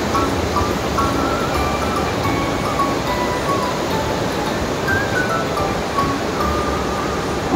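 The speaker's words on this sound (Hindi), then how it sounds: "इस पूरे रास्ते में हमारे साथ साथ नदी थी।" A river rushes beside a mountain trekking path from Sankri to Osla in Uttarakhand, a steady, loud wash of flowing water with no break.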